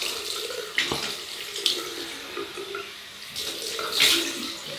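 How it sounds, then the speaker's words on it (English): Cold water runs steadily from a tap into a sink for a rinse after shaving, a continuous hissing splash with a few louder bursts as the flow is disturbed. "Cold water rinse."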